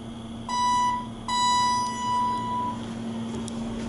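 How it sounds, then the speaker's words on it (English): A hotel front desk bell at a Residence Inn by Marriott in Katy, Texas rings twice, clear sustained metallic tones, the second decaying longer, over a steady indoor hum with no talking. "I'm gonna ring the bell."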